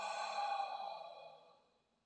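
Slow exhale during yoga breathing, a soft airy breath that fades out over about two seconds, close and quiet, with no talking.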